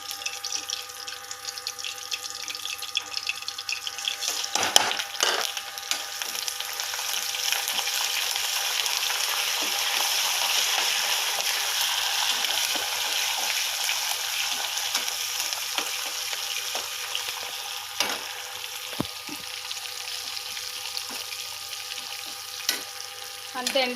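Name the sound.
garlic, dried chillies, mustard seeds, cumin frying in pan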